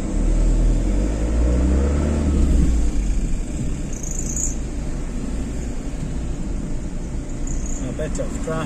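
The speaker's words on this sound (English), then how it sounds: "A bit of traffic." Road traffic heard from inside a car driving in southern Tenerife, a steady engine rumble and road noise with passing vehicles, and someone talking over it.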